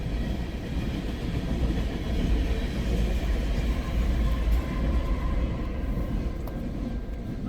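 CN freight train S708 with its rear DPU locomotive passing, a loud continuous low rumble of rolling wagons and wheels, steady throughout with faint clicking on the rails.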